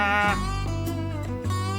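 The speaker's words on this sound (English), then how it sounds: "my new invention, the Squeezin Bleat deer call" A squeeze-bellows deer call gives a short, soft bleat, a nasal bleating tone of under two seconds that sits close and alone, with no talking.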